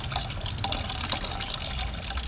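Water poured off a container of saved seeds soaking for seed saving, a steady broadband gush and splash running the whole time, close and moderately loud with no talking.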